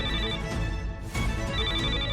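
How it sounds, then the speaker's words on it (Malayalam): A telephone ringtone chimes in repeated bursts, a steady electronic ringing pattern heard clearly in an indoor television drama scene. "ജഗനങ്ങളെ വിളിക്കുന്നുണ്ട്, ഞാൻ ഫോൺ എടുത്തിട്ട് വരാം."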